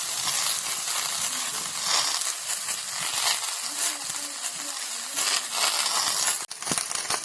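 Eggplant frying in oil in a pan, a steady close sizzle with occasional crackles and a stirring scrape near the end.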